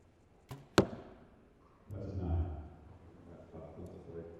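Two sharp, quick snaps of arrows released from a bow at an indoor archery competition in Nîmes, followed by a low murmur of voices and crowd noise.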